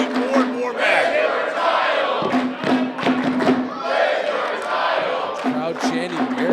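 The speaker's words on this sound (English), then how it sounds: "Crowd chanting, "Where's your title?" rubbing it in the face of the Raging Bull." A live wrestling crowd chants a rhythmic taunt in unison at a heel, loud and close, the repeated group phrase rising and falling over several seconds with cheering between chants.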